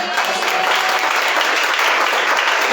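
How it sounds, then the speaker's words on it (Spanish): Applause from a church congregation at a Spanish-language sermon, steady dense clapping filling the room at close range, loud and unbroken with no talk over it. "Dale un aplauso al Señor"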